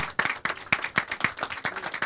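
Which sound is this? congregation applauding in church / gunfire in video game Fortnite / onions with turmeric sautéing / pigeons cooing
congregation applauding in church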